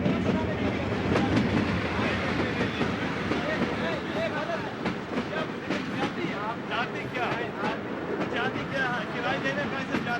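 A locomotive-hauled train running on rails, a steady rumbling roll with rhythmic clatter of wheels over track joints, close and continuous throughout, with voices faintly mixed in.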